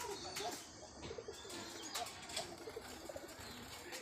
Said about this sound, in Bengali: এখন বিকালবেলা কবুতরগুলো ধীরে ধীরে তাদের বাসস্থানের দিকে আসছে